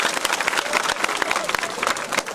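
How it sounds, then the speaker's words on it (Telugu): An audience at a religious talk applauds, with dense, fast, continuous clapping from many hands throughout, close and loud, plus a faint murmur of voices. "ఒకసారి గట్టిగా చప్పట్లు కొట్టండి అయ్యా"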